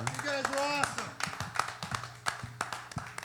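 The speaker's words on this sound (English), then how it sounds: "give a big round of applause for the band" Audience applause for a live band at a benefit show, scattered claps ringing out close by over a voice talking at the start, thinning into irregular individual claps.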